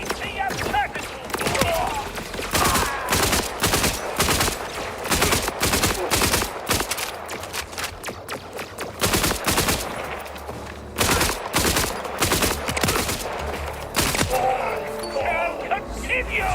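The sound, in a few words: gunfire from a gun in a video game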